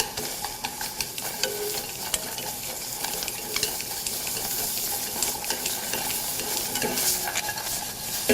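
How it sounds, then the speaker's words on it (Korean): Onion, carrot and celery sautéing in a little butter sizzle steadily in a close pan, with stirring scrapes and small crackles running throughout. "샐러리를 넣고 살짝 볶아줍니다."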